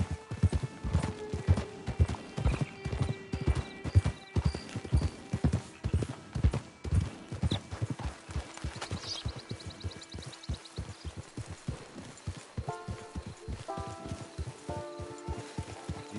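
Horse hooves clip-clopping in Red Dead Redemption 2, a steady close trot of regular hoof strikes over low game ambience, slowing toward the end as a few musical tones come in.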